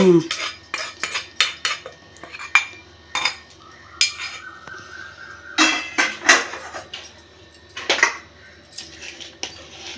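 A spoon stirs tempering into mango pickle, clinking and scraping against a metal vessel in irregular close knocks and rattles separated by short pauses, with no talking.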